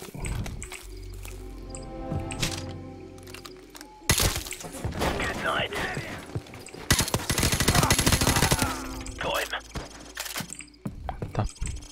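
A suppressed gun fires in Call of Duty Modern Warfare Remastered, with bursts of muffled rapid shots, clatter and impacts. Loud game action surges and falls, and a voice talks over part of it.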